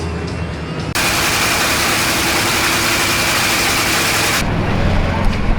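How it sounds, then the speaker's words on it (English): A nitro-fueled funny car drag racing engine is warmed up before qualifying at the NHRA Winternationals, with a loud, harsh, sustained roar that cuts in sharply, holds steady for several seconds, then drops back to a lower rumble. "Fixing to warm up the funny car."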